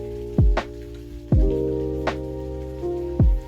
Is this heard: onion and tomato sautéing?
no